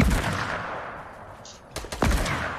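Video game gunfire in a multiplayer shooter, a burst of rapid shots fading at the start and then a few sharp close reports near the end, with players talking over it.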